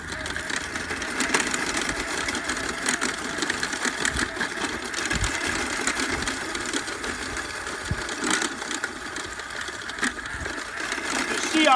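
A Mantis 58 volt cordless electric tiller digging soil at slow speed, giving a steady whirring motor drone with gritty churning and scraping from the tines, while a person talks over it.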